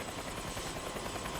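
A sheriff's air rescue helicopter hovers nearby during a medical evacuation, its rotor chop loud and continuous with a rapid pulsing beat.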